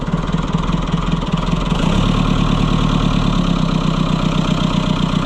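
A White 700 tractor engine runs at a steady idle, loud and close, with a low rhythmic chug that shifts slightly in pitch partway through and no talk over it.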